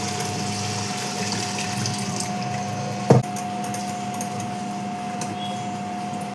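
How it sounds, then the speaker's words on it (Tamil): Steady wet churning and watery hum of a wet grinder grinding parboiled rice with water, running continuously, with one brief knock in the middle. "நிறைய இருக்கிறதுனால நான் கிரைண்டர் போட்டிருக்கேன். இந்த தண்ணியை ஊற்றி அரைச்சிக்கலாம்."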